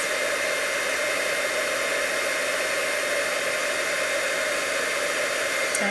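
Heat tool blowing hot air over an embossed design in papercraft, a steady, loud, close hiss and whir that runs unbroken throughout with no talk.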